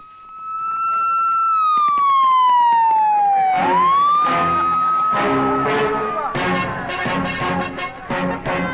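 A wailing police car siren sweeps loudly through a dramatic action-thriller movie scene, its pitch gliding down and up, then overlaid by dense crashing effects and music.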